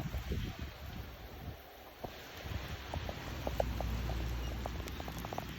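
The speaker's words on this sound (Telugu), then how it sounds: "రోడ్డు మీద చిరుజల్లు పడుతూ ఉంది" Light evening drizzle falls on a quiet, empty road. Faint scattered pattering ticks sit over soft wind noise, with no one talking.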